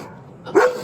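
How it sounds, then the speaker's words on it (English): A big dog gives one loud, close bark during a police officer's roadside stop, with quiet background before it. "Oh, it's a big dog."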